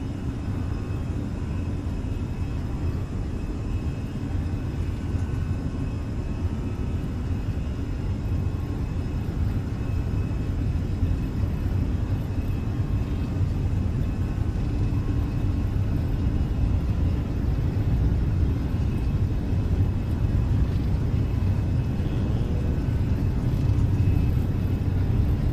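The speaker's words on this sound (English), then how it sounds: "Long takeoff roll." Airliner engines during a long takeoff roll on a simulated Chicago O'Hare runway, a steady loud broadband roar and rumble that holds constant and swells slightly toward the end, with no talking.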